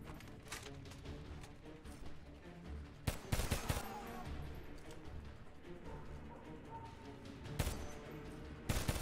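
Gunfire in the Homefront first-person shooter on PC: quick bursts of shots and a couple of heavier cracks rise out of a steady, busy battle bed at moderate, fairly distant loudness.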